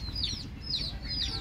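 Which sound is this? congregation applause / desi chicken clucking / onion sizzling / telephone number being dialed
desi chicken clucking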